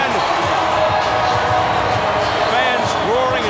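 An arena crowd roars and cheers for Muhammad Ali at the MCI Center, a steady dense wall of noise with a commentator talking over it.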